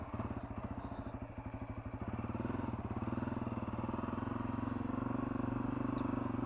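A Honda CRF250f dirt bike rides single track at an easy pace, its engine putting out a steady close-up rhythmic putter that rises slightly after a couple of seconds and holds without any talking.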